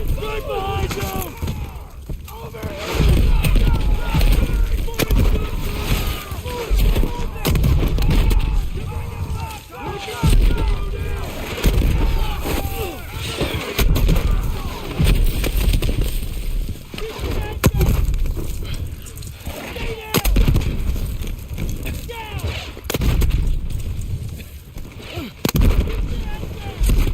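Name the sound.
mortar explosions and gunfire in video game Call of Duty WWII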